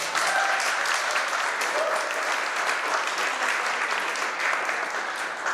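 A crowd claps at a ribbon-cutting ceremony for the historic Hotel Morgan, a full, steady round of applause from many hands that holds at an even level from start to finish.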